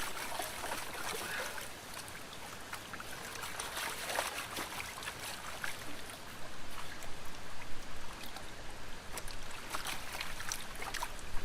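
Underwater shaking of a flat gold pan with a heavy load of material gives a steady wet sloshing and trickling with repeated splashy surges, close up and moderately loud, with no talking.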